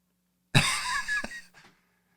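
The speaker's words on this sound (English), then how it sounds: "as she's clearing her throat" A woman clears her throat once, a harsh close burst lasting about a second, followed by a short weaker rasp, in an otherwise quiet room.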